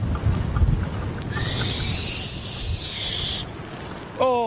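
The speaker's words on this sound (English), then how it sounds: "can really hear the wind now" Strong wind roars outdoors at Heathrow Airport, a loud broad rush buffeting the microphone, with a brighter hissing swell in the middle and a brief tonal sound at the end.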